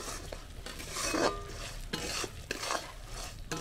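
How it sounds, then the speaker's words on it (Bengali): Chickpeas are stirred in a pan with rhythmic utensil scrapes and knocks against the metal over a faint sizzle, fairly quiet and close. "আমি ছোলা দিয়ে দেবো পরিমাণ মতো, নাড়াচাড়া করে মেশাতে থাকবো।"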